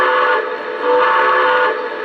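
A steady, sustained model train steam whistle sounds continuously, loud and close, swelling slightly in the middle before easing off.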